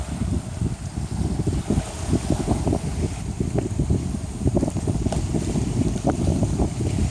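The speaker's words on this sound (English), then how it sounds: "that wind is relentless this evening" A relentless evening wind of about 15 mph blows steadily across Kentucky Lake, making a loud, constant roar and buffeting close to the microphone, with scattered small knocks and splashes.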